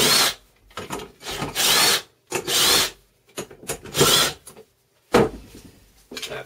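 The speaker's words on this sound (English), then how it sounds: "just use an impact gun to take this thing apart." Impact gun removing oil pump bolts from a Honda K20A2 engine: several loud, close bursts of rattling hammering, each lasting about half a second to a second, separated by short pauses, with no talk.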